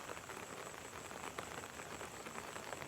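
Rain falls outdoors as a steady, faint hiss of drops, an even wash of noise with no voices.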